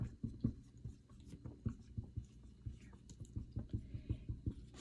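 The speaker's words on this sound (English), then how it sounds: "So I'm going to write that at the top." Pen writing a heading in blue, a quiet, close, rapid series of scratchy strokes and taps in an irregular rhythm, with no talking.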